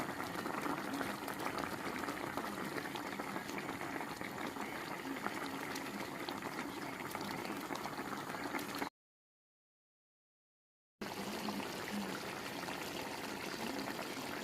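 Coconut milk (gata) simmering at a steady rolling boil with fish (orata) and mustard greens in a pot, a dense continuous bubbling close by, broken by a short gap of silence partway through.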